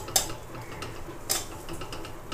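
Kochu shak (taro leaves) being stirred in a pan, a couple of sharp metallic clinks of a spoon against the pan over a low soft scraping, fairly faint.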